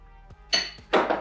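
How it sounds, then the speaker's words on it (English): A fork whisks cream into a thin donut glaze in a bowl, giving two bursts of bright clinking and scraping against the bowl after a couple of faint taps. The sounds are close and clear. "And I'm just going to mix this with a fork"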